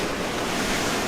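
Strong wind of around 33 to 35 knots roars across the sailing yacht Altor on the Firth of Clyde, a loud, continuous rushing mixed with wave wash and buffeting on the microphone, with no speech.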